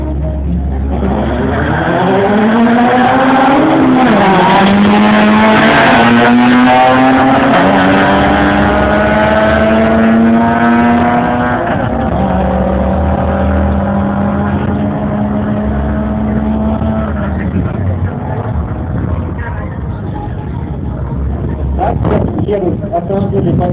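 Drag racing cars accelerating hard at a drag race event in Berdyansk, loud engine roars climbing through several gear shifts before fading as the cars pull away into the distance.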